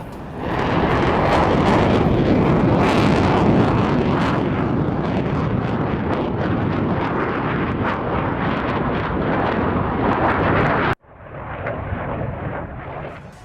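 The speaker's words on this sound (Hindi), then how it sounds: "इजरायली फाइटर जेट ने किए हैं हवाई हमले" Air strikes by Israeli fighter jets on Lebanon produce a massive, sustained roaring rumble of blasts and jet noise, loud and continuous for about eleven seconds before an abrupt cut to a lower, distant rumble.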